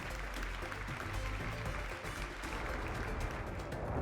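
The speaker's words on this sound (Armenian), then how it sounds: "Ծափահարություններով ճանապարհում ենք մեր մասնակցին" A studio audience at a masked singing contest show applauds as a contestant departs, a dense, even wash of clapping that holds at the same level for several seconds, with no one talking over it.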